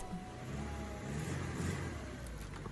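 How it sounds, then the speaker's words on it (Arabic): A car creeps forward onto a board studded with nails, its engine running at a low, steady rumble with a faint mid-pitched whir close by and no voices. "اول شيء ركب السيارة فوق."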